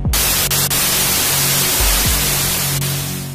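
Steady, loud broadband static noise fills the whole stretch, with a low hum underneath and a few faint clicks, fading slightly at the end.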